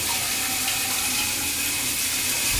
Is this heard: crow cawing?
no